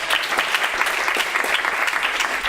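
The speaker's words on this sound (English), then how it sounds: "a big round of applause for Claudia, who came all the way from Madrid" Meetup audience at an advanced UX writing event in Barcelona bursts into dense, steady applause, many hands clapping close and loud throughout with no talk over it.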